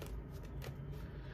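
A deck of tarot cards shuffled close up, a quiet run of soft papery riffles and rustles with no voices.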